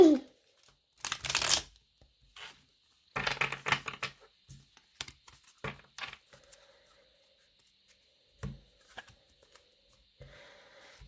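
Tarot cards being shuffled in a few quick riffling bursts with pauses between, close and fairly quiet, followed by scattered light handling taps and rustles.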